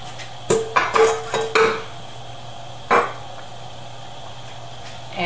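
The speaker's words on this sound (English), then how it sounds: "I'm going to add my okra." Okra tumbles into a pot of lowfat seafood gumbo over high heat, giving a few close clattering plops and knocks against the pot in quick succession, then a lone thud after a pause, with no talk.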